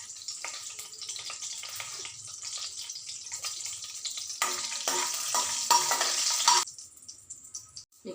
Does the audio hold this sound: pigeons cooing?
no